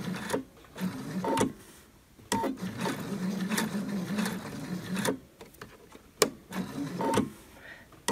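A domestic sewing machine runs slowly along a marked line on fabric for children's bloomers, in short bursts with pauses where it stops with the needle down before starting again.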